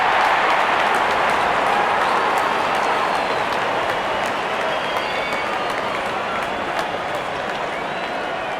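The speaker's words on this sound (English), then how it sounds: "Out come the openers, cheered by a good crowd in." Crowd noise in a cricket video game as the openers walk out, a loud continuous roar of cheering and clapping from a big stadium crowd, steady throughout with no talk heard.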